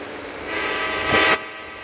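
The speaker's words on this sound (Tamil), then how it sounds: "அந்த ரயில் மூவ் ஆகும் அந்த ட்ரெயின் வரப்போ" Rumbling video game train with a steady mechanical drone, swelling into a brief louder hiss-like burst before settling back down.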